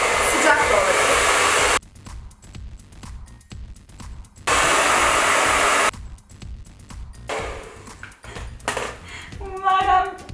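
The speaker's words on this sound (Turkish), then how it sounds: "Şimdi saç kurutma makinesini alıp isterseniz tam sıcağı açmadan soğuk havada üfleyebilirsiniz" A handheld hair dryer on a cool setting blows air onto hair in two steady roaring bursts of about two seconds each, with quieter rustling and handling sounds between and after them.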